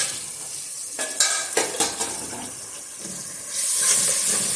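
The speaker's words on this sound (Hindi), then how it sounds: "अभी कम अज कम इसको मैं 10 मिनट मसाले को पकाऊंगी" Masala for Sindhi aloo methi pulao sizzling in a pan, with several scraping stir strokes near the start and a louder hissing frying surge toward the end.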